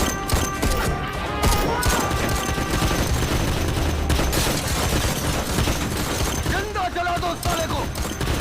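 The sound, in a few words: gunfire in a film, gang members shooting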